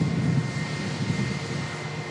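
A British Airways narrow-body airliner departing, a steady broad engine roar at moderate distance that holds level throughout without any voices.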